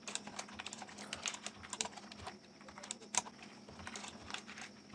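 Code being typed on a computer keyboard gives a quiet, irregular stream of close key clicks with short pauses and a few sharper taps.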